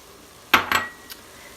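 Seasoned ground turkey being stirred in an Instant Pot: a few brief, close utensil scrapes and clinks against the metal pot, then quiet.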